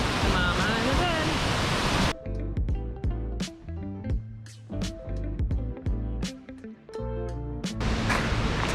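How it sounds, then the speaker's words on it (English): Three Bears Falls, a set of three waterfalls along the Road to Hana on Maui, roars with a loud broadband rush that dominates the start and returns at the end, while music plays in between. "This is the Three Bears Falls."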